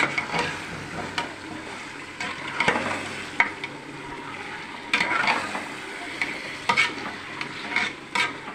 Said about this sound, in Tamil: கறி வதங்கி